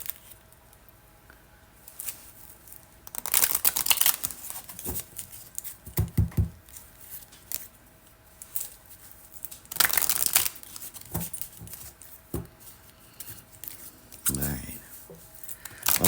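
Oracle cards being shuffled in repeated rustling, riffling bursts over several seconds, with quiet pauses between.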